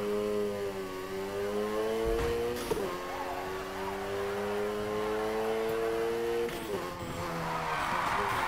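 A car drifts in Need for Speed Heat, its engine revving in rising and falling tones with tire squeal and brief impact bursts, loud and continuous.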